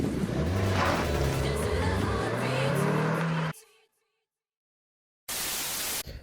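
A 2007 Renault Twingo RS Cup engine running loudly with a rising, revving drone for a few seconds, then cutting to silence before another brief burst of loud noise.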